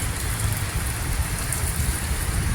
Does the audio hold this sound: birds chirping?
no